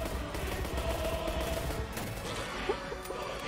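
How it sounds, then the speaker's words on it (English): Rapid pistol fire in the egg-themed shooter game Shell Shockers, a dense run of sharp shots over busy game noise, fairly loud and continuous with no talk. "Yo, his pistol's still shooting."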